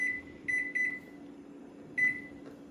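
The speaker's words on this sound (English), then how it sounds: "I'm going to go to a microwave. I'm going to select kitchen timer." Several short, high electronic beeps from a microwave keypad setting the kitchen timer, a quick cluster of presses followed by one more after a pause, over a low hum.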